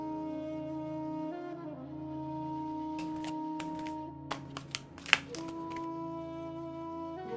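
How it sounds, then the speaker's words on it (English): A slippery-cardstock Pink Tarot deck is shuffled over steady, sustained background music: a quiet stretch, then a cluster of crisp riffling snaps and taps in the middle before the cards settle. "Oh, I really shuffle them upside down."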